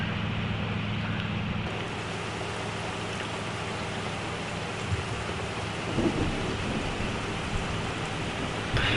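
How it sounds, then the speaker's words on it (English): Steady heavy rain in Farming Simulator 25, a constant broadband wash with low rumbling thunder beneath, a few louder bumps near the end. "we have to love the random rain that shows up"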